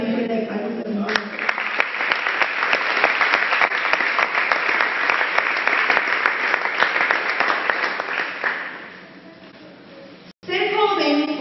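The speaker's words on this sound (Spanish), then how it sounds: "Dale un fuerte palmas al Señor" A church congregation bursts into loud, sustained applause that fills the hall for several seconds, then fades to a softer patter before a voice resumes speaking to the crowd.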